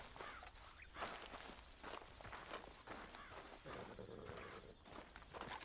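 Footsteps and horse hooves in Red Dead Redemption 2, a rider dismounting amid rhythmic soft clip-clop and scuffing steps, fairly quiet and continuous.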